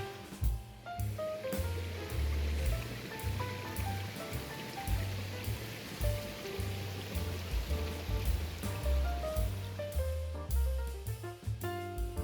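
Waterfalls on the Appalachian Trail pour in a steady, close rushing wash of water with splashing and bubbling, continuous and fairly loud without talking.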